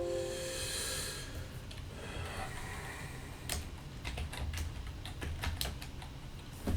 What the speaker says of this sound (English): I don't know how I managed to mess up typing my initials